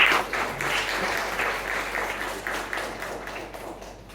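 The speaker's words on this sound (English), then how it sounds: "A huge round of applause to both the speakers." An audience at a career counselling event in Mumbai gives sustained applause for two speakers, a dense, steady wash of many hands clapping that slowly tapers toward the end.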